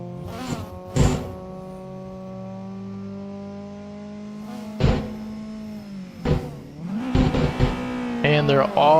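Race cars in the Assetto Corsa sim racing game idle and then rev and pull away at the start of a touge race, engine tones rising with sharp bursts, while voices talk over them.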